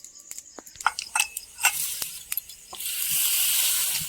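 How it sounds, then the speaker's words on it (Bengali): Bay leaves and dried red chillies hit hot oil in a pan, first with a few scattered clinks and crackles, then a sudden steady sizzle that keeps hissing to the end. "তেলটা গরম হয়ে গেছে, এখন দিয়ে দেবো তেজপাতা, দিয়ে দেবো শুকনো লঙ্কা,"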